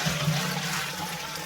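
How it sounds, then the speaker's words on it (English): Sterilising fluid from cleaning a milking bucket poured back into a main can, a brief gurgling rush of liquid that tapers to a softer trickle, with no talk. "That sterilising fluid now is going to go back into our main can here for"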